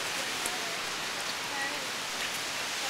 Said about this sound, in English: It's raining pretty bad right now.